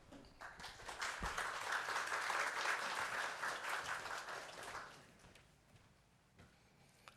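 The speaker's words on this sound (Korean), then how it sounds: "사관님 나오실 때 박수로 인사하겠습니다." Warm applause from the staff gathered at a Salvation Army officer's weekday morning chapel service, a dense, steady wash of clapping that swells and holds for several seconds before tapering off into scattered claps.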